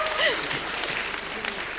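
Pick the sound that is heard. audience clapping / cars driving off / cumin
audience clapping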